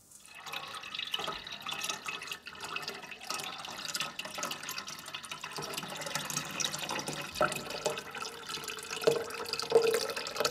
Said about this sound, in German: Und gießen das jetzt wieder sacht ab.